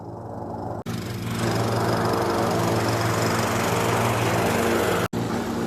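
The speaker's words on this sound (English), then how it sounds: "Why is there a lawnmower next to my world premiere?" A lawn mower engine drones loudly and steadily nearby, its roar holding constant with a brief cutout near the start and another near the end.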